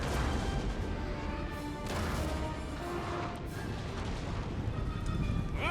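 Cannon and artillery fire in a Napoleon: Total War battle rumbles as dense, continuous booms and crashes, heavy in the low end and layered over a noisy battlefield din.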